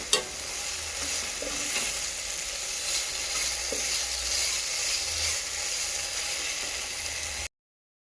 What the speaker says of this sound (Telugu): ఇప్పుడు ఈ అల్లం వెల్లుల్లి పేస్ట్ని పచ్చివాసన పోయే వరకు వేసుకోవాలి కొంచెం కరివేపాకు కూడా వేసి ఫ్రై చేసుకోవాలండి